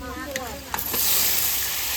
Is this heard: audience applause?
no